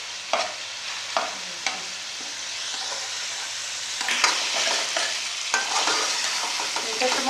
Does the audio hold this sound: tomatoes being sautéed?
yes